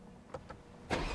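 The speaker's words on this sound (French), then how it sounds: "Allez, on va démarrer le moteur" A BMW M3 Touring estate's engine starts up: two soft mechanical clicks, then the engine catches with a loud, close roar that carries on to the end, with no talking.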